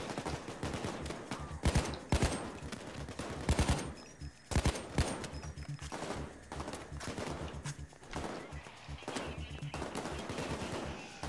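Sustained gunfire from the video game Payday 2 during a co-op bank heist mission, with repeated loud bursts and rapid automatic fire alongside clusters of single shots over a constant busy game background.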